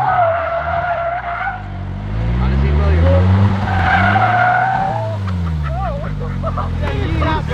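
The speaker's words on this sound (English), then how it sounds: "they want me to drift a slingshot" A Slingshot three-wheeler drifts with its tires skidding and squealing in long sustained screeches over a revving engine, loud and close, with people talking and shouting over it.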